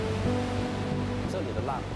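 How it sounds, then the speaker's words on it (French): Ocean waves and swell break off the Maldives with a steady, broad rushing roar that runs the whole short stretch, heard beneath a person speaking. "Ici, les vagues et les houles sont déferlantes"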